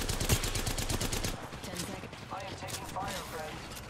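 Rapid bursts of gunfire from the video game Apex Legends crackle loudly in the opening seconds, then thin into scattered shots under excited players' voice chat.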